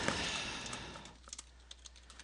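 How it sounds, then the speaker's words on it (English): Someone typing an essay on a computer keyboard: faint, scattered key clicks in an irregular rhythm, close and quiet, alone. "So I'm going to start typing up my essay."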